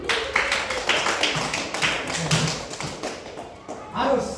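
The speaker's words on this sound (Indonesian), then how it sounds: "Berarti kita tepuk tangan untuk Don." A classroom of students claps for a student, a brisk run of sharp overlapping hand claps that tapers off, with a teacher's voice talking over it.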